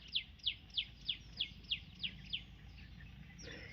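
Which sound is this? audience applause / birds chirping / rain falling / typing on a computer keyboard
birds chirping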